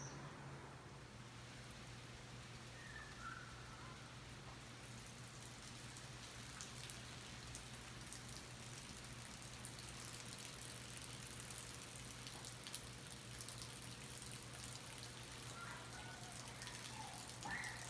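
Soft, steady rain patters outdoors in Panama during a sun shower, with a low continuous hum underneath and occasional faint sounds in the background.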